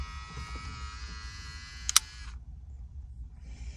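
The electric folding side mirror motor on a Porsche Panamera, faulty so the mirror no longer folds, whines steadily for about two seconds, ends in a sharp click, then goes quiet.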